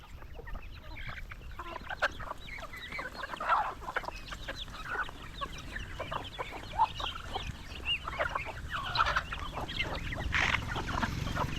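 Native chickens, including a red rooster with a large straight comb and a hen, cluck and call repeatedly at moderate distance, with scattered overlapping clucks and soft background rustle throughout.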